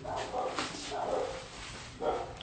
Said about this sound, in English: Oh, there's two dogs. Maybe he's barking for the sandwich.